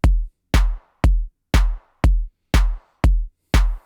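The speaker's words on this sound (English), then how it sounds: "then a clap" A house drum pattern of kick and clap hits, eight evenly spaced punchy beats about half a second apart, each with a deep thump and a bright snappy tail, loud and alone with no voices.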